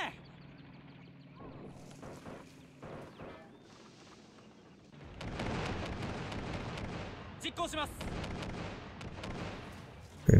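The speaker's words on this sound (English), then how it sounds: "my mortar should be in position now" Mortar fire in the World War II strategy game Men of War, a dense run of rumbling, crackling battle blasts with sharp bursts near the end, rising after a quieter opening.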